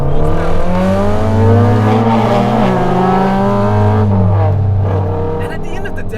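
A Honda Civic Type R FN2 with an engine built by Elusive Racing, making about 200 wheel horsepower, revs hard toward 8,500 RPM, loud and close with rising and falling engine pitch, then easing off.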